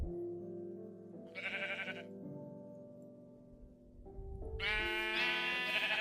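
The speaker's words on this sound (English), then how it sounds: "Group of sheep. Sheep will do." Sheep in a Minecraft modpack bleat several times in close succession, loud and near, their wavering cries overlapping one another with no talk over them.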